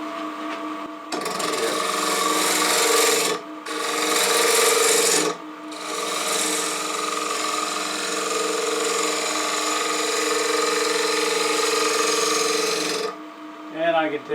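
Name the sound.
wood being shaped on a lathe, rounding an edge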